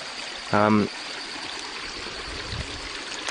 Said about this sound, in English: Here's our little river.